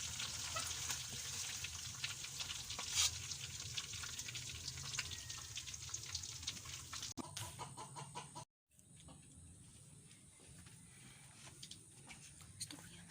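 Corned beef dynamite chili rolls fry with a steady, close sizzle in hot oil, with rooster crowing and clucking nearby and a brief cutout partway through.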